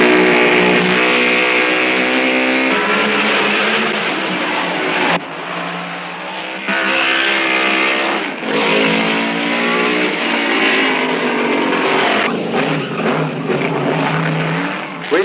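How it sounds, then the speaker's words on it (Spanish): A 1956 Ferrari racing car with a Lancia-derived V8 engine roars loud and close, revving with a dense harmonic drone across the clip, its pitch dipping at brief gear changes or throttle lifts, no voices present. "Questa è la Ferrari 2005 8 cilindri a V derivato dalla Lancia."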